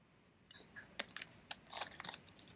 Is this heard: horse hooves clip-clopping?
no